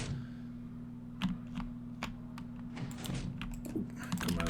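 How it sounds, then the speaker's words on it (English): Steady bursts of computer keyboard typing, irregular clusters of clicky keystrokes near the microphone over a constant electrical hum, no voices. "Sorry if my keyboard's making a lot of noise."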